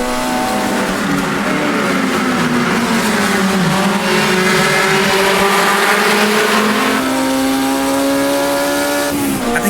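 A Formula Junior vintage race car in the Automobilista 2 racing game, its engine loud and close, revving and sweeping up and down in pitch through gear changes, with brief tire squeal, continuous throughout.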